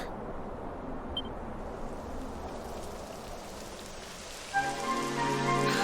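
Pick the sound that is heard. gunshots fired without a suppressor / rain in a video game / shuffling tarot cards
rain in a video game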